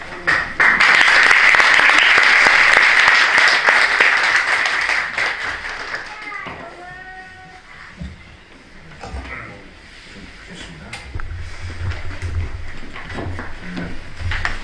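An audience at a church ordination ceremony claps loudly with cheers in a dense burst of applause that fades after several seconds into quieter room noise and a few scattered sounds.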